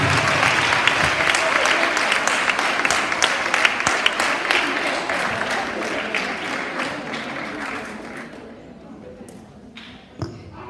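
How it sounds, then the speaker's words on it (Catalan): Strong applause from a school audience at a high school event welcoming a guest, steady dense clapping for about eight seconds before tapering off, with a voice briefly heard near the end. "un fort aplaudiment"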